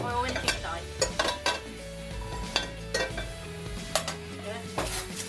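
Fish cakes fry in olive oil in a hot pan, a steady sizzle punctuated by repeated clinks and scrapes of a utensil against the pan, close and clear with no talking.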